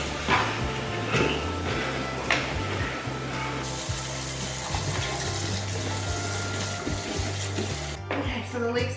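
Tap water runs and splashes continuously over sliced leek rings being washed in a kitchen sink, with soft clatter as the rings are handled and the flow shifting partway through.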